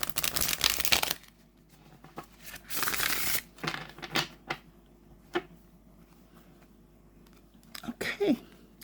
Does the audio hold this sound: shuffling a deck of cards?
yes